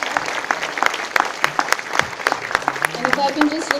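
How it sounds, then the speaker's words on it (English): An audience at a Tuberculosis Day 2021 event applauds a minister being welcomed onto the stage, steady close clapping throughout with a voice heard over it. "Can we have a big round of applause, ladies and gentlemen?"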